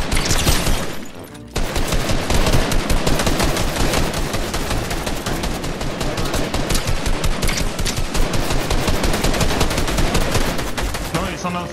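Sustained rapid gunfire in the Fortnite video game, dense automatic bursts running almost continuously and loud after a brief lull near the start.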